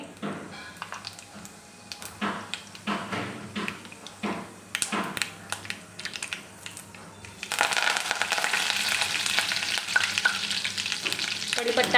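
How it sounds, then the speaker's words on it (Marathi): Mustard seeds and cumin crackle in hot oil in a kadhai, with scattered pops and stirring scrapes that swell into a steady, dense sizzle in the second half, with no voices. "मोहरी तडतडली की टाकायचं आहे जिरे"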